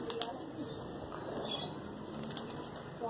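Pigeon wings flap in a few quick bursts close by, over a low outdoor hum with faint bird sounds.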